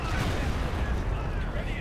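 Heavy .50 caliber machine gun fire in Company of Heroes 2 battle, a dense continuous roar of rapid shots and impacts filling the whole moment, loud and close amid game combat noise.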